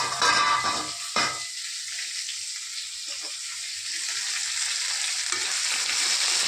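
Okra pieces frying in a pan, a bright crackling sizzle with a couple of sharp stirring clatters early, settling into a softer continuous high hiss.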